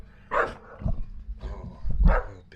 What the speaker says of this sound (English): Oh, big scary dogs.